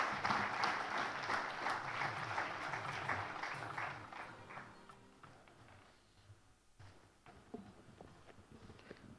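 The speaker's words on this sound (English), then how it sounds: "A big round of applause, please." A round of applause from a summit audience at a leadership event, loud and dense at first, then thinning into scattered claps and a few footsteps as it fades toward the end.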